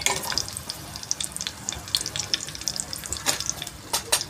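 Turmeric and asafoetida crackle in hot tempering oil over a low flame alongside already-fried green chillies, a steady close sizzle dotted with sharp pops and spits, no voices.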